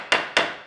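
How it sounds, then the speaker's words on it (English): Two crisp wooden taps from a Tender Leaf Toys wooden woodpecker toy hammer, close and clear, each fading quickly in a quiet room. "Tap Tap hammer."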